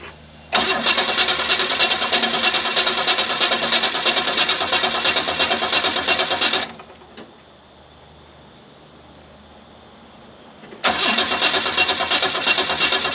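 A 1979 Holden car with a flooded carburetor and a float stuck open cranks hard for about six seconds without catching, pauses in near silence, then cranks again, loud and close.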